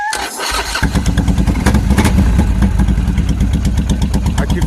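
A motorcycle engine fires up after a brief pause and settles into a loud, close, lumpy idle with a steady rhythmic thump, heard alone.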